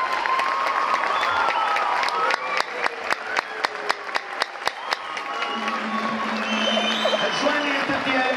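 Audience applause on a stage, a broad wash of crowd clapping where a few loud, evenly spaced single claps stand out close by for a few seconds, with a voice speaking over the end.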